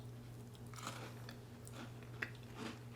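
Someone bites into and chews a crispy, thin maple cream sandwich cookie, producing a few soft, close crunches over a quiet background hum.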